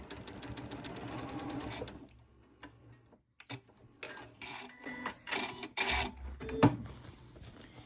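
Home sewing machine stitching a seam on a small lace-zipper pouch, a steady close mechanical whirr for about two seconds, then scattered stops, clicks and short bursts of stitching.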